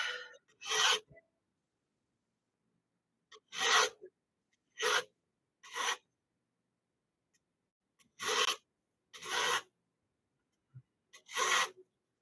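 Silver jewelry pieces being filed with a metal file in a silversmith's workshop: seven short bursts of rasping strokes separated by pauses, close and fairly quiet, with no one talking.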